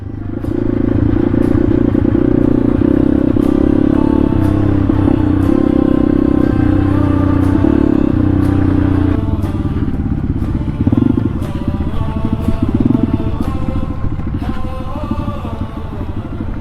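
Enduro motorcycles labor up a rough, rocky mountain road, engines droning and rising in pitch with throttle changes while rocks clatter and scrape under the tires, loud and close throughout.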